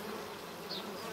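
Honeybees swarm over a hornet to smother it, a dense, faint buzzing hum from many wings that continues steadily for a moment.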